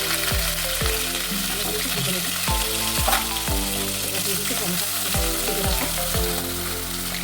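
Whole cumin seeds and onion frying in hot oil give a steady loud sizzle, close up, with a few scraping stirs and knocks against the pan throughout.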